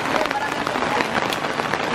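Rain falling at a camping beach in Baisha, Taiwan, a steady dense hiss of drops that stays loud and even throughout with no clear voices.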